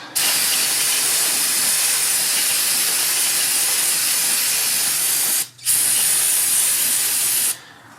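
Brick cleaner sprayed during Dodge Ram 2WD brake and hub work: a loud steady aerosol hiss in two long bursts with a brief pause between them.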